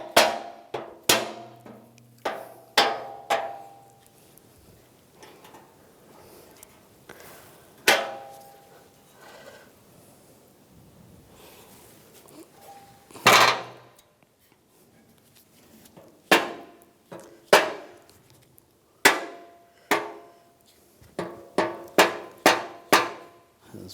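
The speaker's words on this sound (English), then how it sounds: "just tap it in place with a hammer" Metal hammer blows tap a front bumper bracket into place on a 1999-2006 Chevrolet Silverado 1500, sharp ringing strikes coming singly and in quick clusters, close and loud with pauses between.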